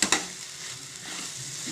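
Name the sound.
spice powders frying in a pan on low flame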